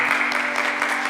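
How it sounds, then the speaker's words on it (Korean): A church congregation claps in encouragement during a Sunday service, a brief burst of steady applause with a faint hum underneath. "우리 격려의 한 박수."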